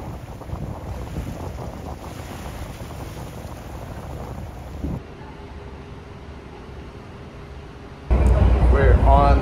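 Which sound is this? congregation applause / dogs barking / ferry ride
ferry ride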